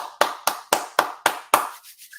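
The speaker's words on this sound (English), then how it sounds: "I'm like, I gotta clap for this." Six quick hand claps ring out close and crisp in an even rhythm, the last one fading into a brief quiet tail.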